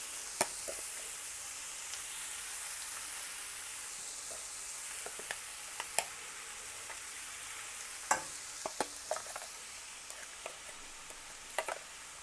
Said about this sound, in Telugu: శనగపప్పు పొడి అంతా వేసిన తర్వాత ఇప్పుడు కలపాలి.